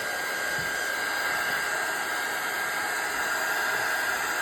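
A dryer blows steadily on a die-cut art junk journal page, drying the freshly applied background; the airflow is a loud, unbroken whoosh that holds throughout with no talking.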